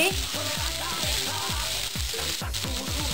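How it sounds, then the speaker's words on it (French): Onions, celery and green pepper fry in a pan for vegan tacos, giving a continuous loud sizzle with a repeating low knocking pulse beneath it. "On commence par faire revenir des oignons dans la poêle."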